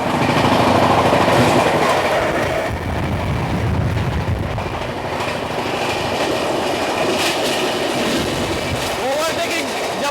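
Express train passing on the adjacent track while overtaking, a loud continuous roar of rolling wheels with rhythmic clatter and a brief squeal near the end, heard from aboard another train.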